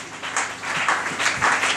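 Congregation at a church service clapping, a steady rippling wash of applause held at a moderate level for a short stretch.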